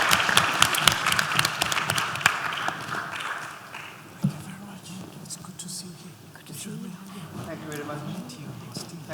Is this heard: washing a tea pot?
no